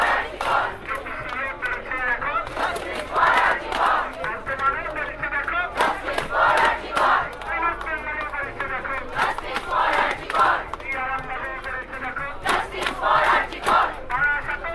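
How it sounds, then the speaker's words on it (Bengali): Crowd of protesting junior doctors at a sit-in outside Lalbazar, Kolkata, chanting slogans in rhythmic bursts, a leader's call answered by many voices, repeating steadily and fairly close. "বিভিন্ন জায়গা থেকে স্লোগান, সেটা একটু শোনা।"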